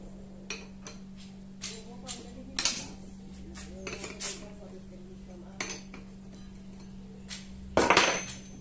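A wrench knocks and clinks against bolts on a Honda CRF 230 motorcycle engine, making scattered sharp metallic taps and clanks over a constant low hum, with a louder clatter near the end.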